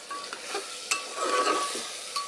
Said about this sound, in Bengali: এখন 1 মিনিট একটু ভালোভাবে গোশতটাকে কষাবো।